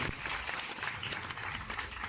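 Audience applause at a Janmashtami celebration in Surat, a dense continuous patter of many clapping hands, fairly close and steady throughout.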